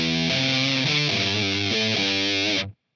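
Heavily distorted electric guitar chord through an Electro-Harmonix Deluxe Big Muff Pi fuzz pedal with tone turned up, a harsh, buzzy fuzz tone, played loud and steady across a few changing notes before cutting off abruptly.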